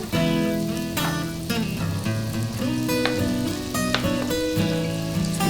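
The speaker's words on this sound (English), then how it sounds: "The butter is nice and sizzly." Butter melts and sizzles in a soup pot before leeks and onions go in, a soft, steady crackle running underneath prominent background music with occasional sharper ticks.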